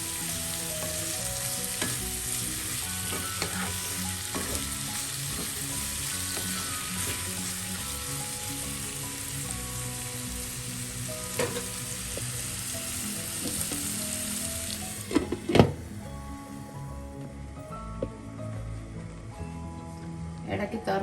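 Goat liver frying with pepper in a pan makes a dense, close sizzle with low rumbling and regular stirring scrapes. A louder clatter of the utensil comes near the end, then a quieter stretch with scattered taps.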